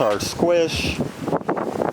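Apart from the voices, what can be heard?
wind blowing into microphone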